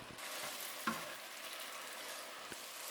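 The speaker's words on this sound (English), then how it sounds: "You just keep boiling it, and the water will dry up." Shrimp and cellophane noodles bubbling and sizzling in a pan as the water boils down, a soft, steady crackle with a couple of light clinks from a utensil.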